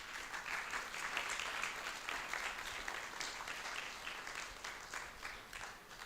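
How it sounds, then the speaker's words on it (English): Sustained audience applause after a presentation at a national board meeting session, a steady wash of many hands clapping at moderate distance, fairly even in level throughout with no talk over it. "Round of applause, please."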